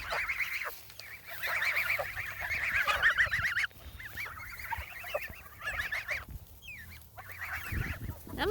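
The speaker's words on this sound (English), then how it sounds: "we are out in the goose pen, getting loved on by all of our goose children" A flock of friendly geese in a goose pen honks and chatters up close, overlapping calls running almost continuously, with some shuffling and handling noise near the end.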